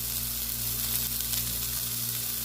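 Sliced onion sizzling in butter on a burger grill, a dense, steady frying hiss up close with a low electrical hum beneath, no talking.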